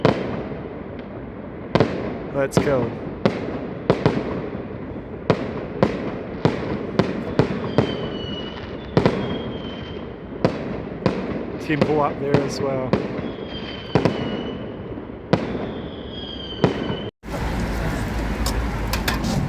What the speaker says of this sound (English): Just randomly some fireworks.